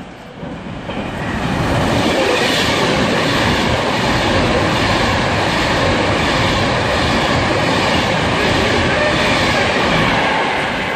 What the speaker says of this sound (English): now passing through now is going to be a Virgin Pendolino